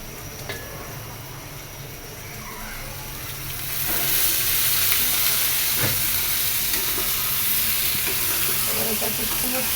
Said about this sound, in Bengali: এটাকে খুব সুন্দর করে ভাজা ভাজা করবো।